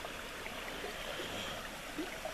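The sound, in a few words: creek flowing by the trail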